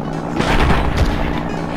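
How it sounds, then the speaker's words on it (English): Rapid P90 submachine gun fire in the Blood & Bacon shooter game, a dense, loud burst of overlapping low booming shots running steadily for a couple of seconds with no talk over it. "This P90 is not shooting the way a P90 should shoot"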